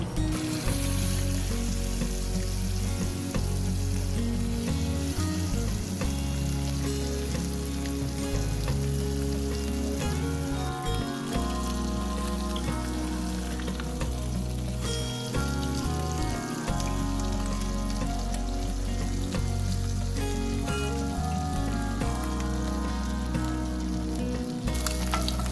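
Pieces of rohu fish shallow-frying in hot oil over low heat, a continuous close sizzle and crackle with small pops, steady throughout and without talk.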